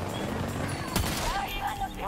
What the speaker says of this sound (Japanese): これ普通のサブマシンガンでやっちゃう